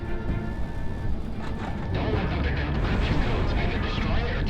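A heavy enemy railgun fires in the video game Project Wingman, sounding as a dense, loud, roaring blast over steady engine rumble that runs unbroken through the whole moment.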